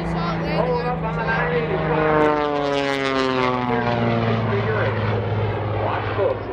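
A propeller-driven aerobatic airplane performs at the 2017 Rhode Island ANG Open House and Airshow, its engine droning loudly and shifting in pitch as it passes, with an announcer talking over it.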